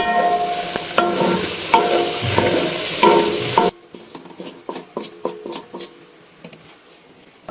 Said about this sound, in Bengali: সেই একই তেলে আমি আলুগুলো ভেজে নিচ্ছি একটু লাল লাল করে ভেজে নেব